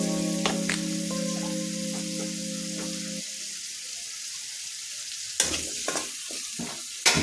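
Turmeric-coated potatoes frying in oil in a pan give a continuous sizzle, with a low steady hum early on and a few sharp stirring clatters toward the end.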